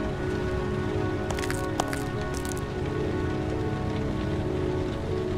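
Steady rain falls in the video game Heavy Rain, a dense continuous patter on surfaces with a few brief sharper drips or splashes early on, loud and with no voices.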